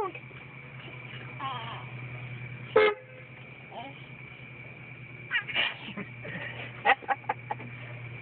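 With a hen perched near a car's steering wheel, one short, sharp car-horn honk cuts through, then scattered clucks and sneeze-like noises follow while people talk nearby.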